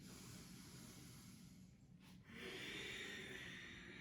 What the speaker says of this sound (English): I don't know if you can hear me breathing all the way over there